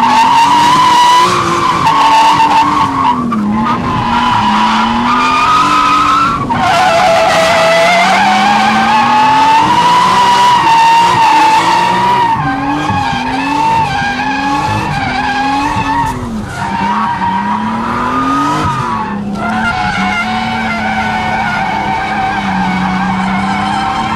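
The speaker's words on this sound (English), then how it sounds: "It's literally just spinning tire, just smoke everywhere." A car drifting with spinning, smoking tires, a loud continuous tire squeal over a revving engine whose pitch rises and falls through the slides, sustained and close.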